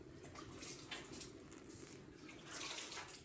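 Water running steadily from a tap while someone washes their hands in a kitchen where tortillas are made, a soft continuous splashing close by with no voices.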